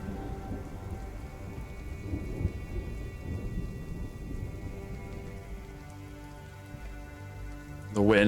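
Steady heavy rain with a low rumble of thunder rolling underneath throughout, and a sharper burst near the end.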